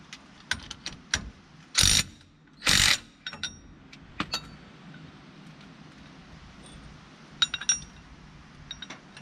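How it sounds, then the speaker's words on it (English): Tools work the suspension bolts on a 1995 Jeep YJ, giving sparse metallic clinks and ratchet clicks with two louder bursts of rattling and long quiet gaps between. "you're going to tighten the greasable bolts to 30 foot-pounds and the non-greasable to 50 or 55"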